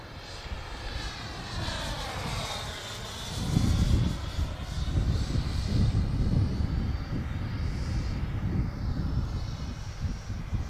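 HobbyKing Vampire RC jet plane running on six cells, a steady loud whooshing engine roar throughout that swells around the middle and holds, with no talk.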